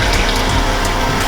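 Heavy cream poured into a pot over melted butter, a steady continuous liquid rush that stays loud and even throughout, with no talking.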